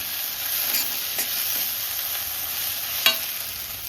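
A spoon stirs oregano and red chili into sizzling vegetables for Mexican rice in a pan, steady frying hiss with a few scraping clicks, close and alone.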